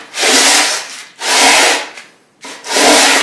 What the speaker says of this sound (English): we're going to take the 220 grit on the 12-inch radius sanding block,